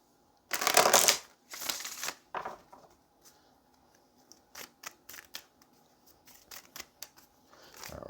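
Tarot cards being shuffled by hand during a reading, a few loud riffling bursts at first, then a series of softer, quick flicks and taps of the cards, close and quiet without talk.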